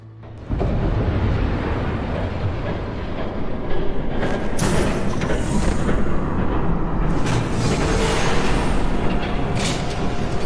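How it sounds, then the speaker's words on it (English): Train rushing past in Batman: The Telltale Series video game, a loud sustained rumbling roar that swells in after a brief quiet start, with sharp hissing bursts partway through and no talk. "There's a train coming."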